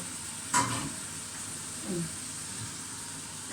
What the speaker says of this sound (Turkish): Şimdi acı biberle beraber soğanımızı içine.